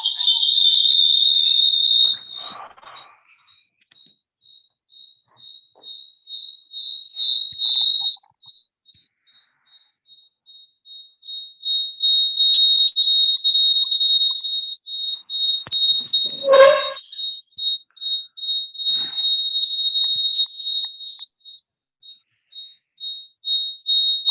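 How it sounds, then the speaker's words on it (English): A steady, high-pitched whistle holds long tones nearly throughout, briefly dipping, while a few faint sounds pass beneath it. "I could whistle while I speak."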